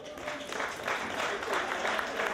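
At a community television variety show taping, a studio audience claps in an enthusiastic burst, fairly soft and evenly spread, with a voice faintly mixed into the clapping.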